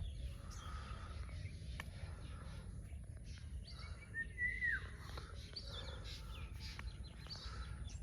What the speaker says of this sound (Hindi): इस समय सिर्फ आपको पक्षियों की आवाज़ सुनाई देंगी, एकदम शांत सन्नाटा है।